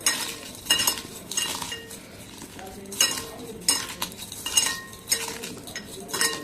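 Green chillies are mashed with rock salt for pachi pulusu, producing a rhythmic run of pressing, crunching strokes with light clinks of utensil against bowl, repeating about once a second.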